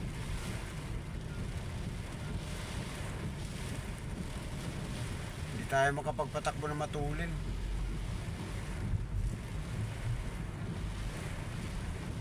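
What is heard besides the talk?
strong wind and waves around a boat in rain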